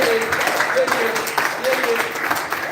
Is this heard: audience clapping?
yes